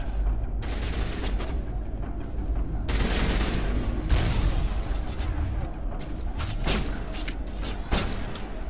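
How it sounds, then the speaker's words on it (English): Bursts of assault rifle fire from Mass Effect combat rattle in rapid volleys over a rumbling battlefield background, loud and close with brief pauses between strings of shots. "Bring out the assault rifle."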